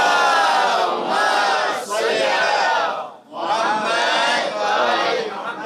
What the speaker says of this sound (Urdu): اب اگر سمجھ میں آئی ہے تو بلند ترین صلوات